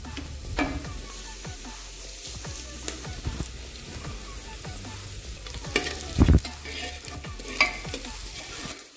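Whole spices and onion frying in a little oil, a soft steady sizzle with scattered taps and scrapes of a stirring spoon and a few louder clatters near the pan.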